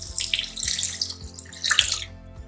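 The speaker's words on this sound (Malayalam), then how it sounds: "പുളിവെള്ളം ഉണ്ടല്ലോ, 1/2 കപ്പ് അത് ചേർത്ത് കൊടുക്കുവാണ്." Tamarind water poured into a pot of rasam, a steady splashing pour for about two seconds that then stops, heard close and alone.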